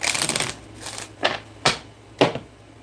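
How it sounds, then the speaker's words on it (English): A deck of tarot cards is shuffled up close in a few quick riffling bursts, each a short dry flutter of card edges with brief pauses between, and no voice over it. "Let's go ahead and shuffle the cards."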